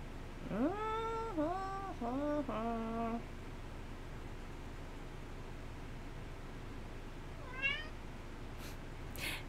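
A house cat meows several times in quick succession early on, fairly close, then a fainter single meow follows later over a quiet hissing room background.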